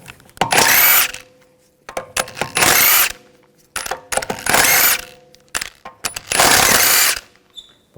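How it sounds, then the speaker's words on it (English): Power tool with a 17mm socket spinning out the wheel lug bolts on a Volkswagen Jetta, four loud bursts of whirring rattle, each about a second long, separated by short quiet gaps. "Using a 17mm socket, take the lug bolts out."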